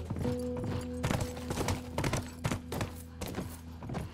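Rhythmic video-game horse hoofbeats clop along at a quick gallop, evenly spaced thuds over a low steady hum, no talking.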